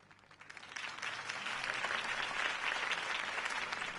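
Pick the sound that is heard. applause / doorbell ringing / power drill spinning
applause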